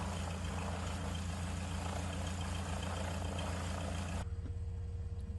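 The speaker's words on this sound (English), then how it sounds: "The engine noise is a little loud on the outside." A truck engine in a video game runs as a steady, loud, low drone with continuous rumble, its tone shifting slightly near the end.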